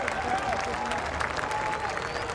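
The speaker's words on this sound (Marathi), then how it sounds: "जोरदार तालियां बजाओ." Applause from a large Mumbai Congress rally crowd, a steady dense wash of clapping that fills the whole stretch at moderate loudness, with faint voices mixed in.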